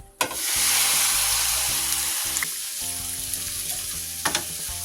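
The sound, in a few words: seasonings frying in oil for ackee and saltfish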